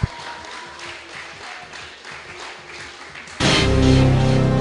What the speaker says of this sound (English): big round of applause for your 2016 House of Mountains!